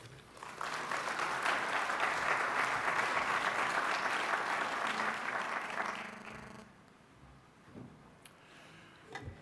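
Audience applause at the 2009 Georgetown Global Forum welcoming Dr. Jim O'Donnell, a steady dense clapping for about six seconds that then fades out, leaving a quiet room with a few scattered noises.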